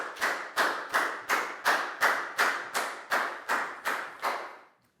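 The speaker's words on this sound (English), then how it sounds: "High five and a big round of applause for Down" Eleven steady, evenly spaced claps in unison, like a group clapping together in rhythm, loud and close, fading at the end.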